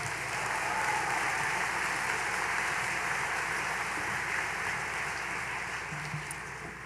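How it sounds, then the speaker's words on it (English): A large audience at a college of osteopathic medicine commencement applauds steadily, a dense wash of clapping that holds even and slowly eases toward the end. "Please, let's give them another round of applause."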